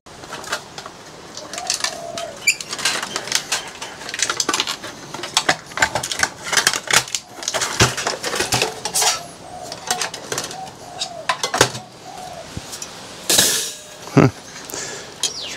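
Opening up the back of a line voltage simulator, with close metallic clinks, scrapes and light clatter of panel and screws, irregular handling noises over a quiet room.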